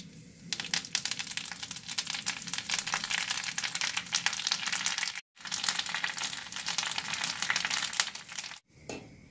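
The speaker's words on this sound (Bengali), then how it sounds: "তেলের ওপর নিম পাতাটা ডান্স করে করে একদম প্রস্তুত হয়ে গেছে" Neem leaves frying in hot oil in a wok, giving a dense continuous crackling sizzle, close and steady, broken by two brief silent gaps.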